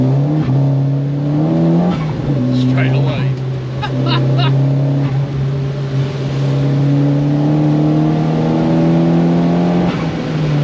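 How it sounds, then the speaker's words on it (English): A 340 bhp Audi 1.8T-swapped Renault Clio 172 accelerating hard with its wheels spinning, the engine note climbing in steady rising harmonics over about ten seconds, loud and close, with people talking over it. "accelerating a lot faster as well. It's not putting any power down at all, is it? Whereas you're just spinning up now"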